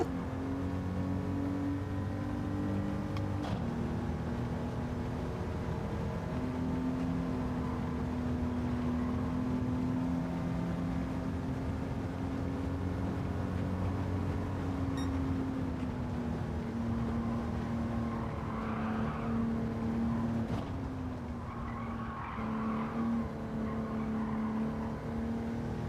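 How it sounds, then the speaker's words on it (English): Several 1960s racing car engines in Gran Turismo 7 at a Goodwood Revival night race drone continuously and loudly, holding steady tones that shift up and down with gear changes across the whole stretch. "I do love to listen to the engines on these things sometimes."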